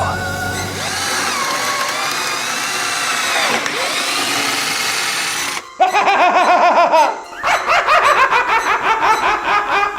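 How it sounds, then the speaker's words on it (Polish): An old power drill whines loudly in a comedy sketch, a sustained rising and falling motor tone that cuts off abruptly, followed by a burst of laughter and chatter. "Stare dobre wiertło."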